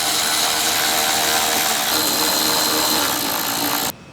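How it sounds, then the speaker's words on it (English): Screws on a Mazda CX-90/CX-70 Takeda cold air intake scoop are driven tight with a 10mm socket, making a loud continuous whirring buzz that stops abruptly at the end. "We're going to go ahead and tighten it up with our 10mm socket."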